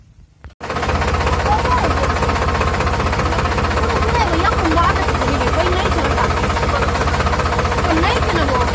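A tractor engine starts up and then runs at a steady, loud, rumbling idle with a knocking tone, close by and continuous for the rest of the clip on a farm where a field is being prepared.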